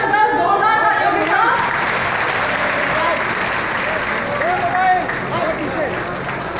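A large crowd at a foundation-stone and inauguration ceremony in Amethi applauds loudly to welcome the Deputy Chief Minister, a thick wash of clapping with whistles and a voice carrying over it.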